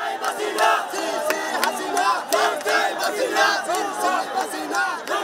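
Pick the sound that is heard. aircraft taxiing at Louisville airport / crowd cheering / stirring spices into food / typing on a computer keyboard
crowd cheering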